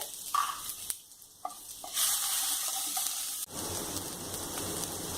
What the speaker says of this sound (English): Just add the ginger and garlic paste and saute them well.